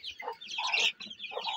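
Chickens and roosters cluck close by in a coop, with several overlapping bursts of clucking and short gaps between them.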